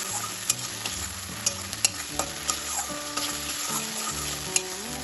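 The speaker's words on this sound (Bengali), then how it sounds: "মশলাটা তেলের সাথে ভালোভাবে একটু কষিয়ে দেবো" Spice paste, ground mustard for a okra dish, sizzling and frying in hot oil, with a steady crackle and scattered sharp taps of a spoon stirring against the pan, close and alone without talk.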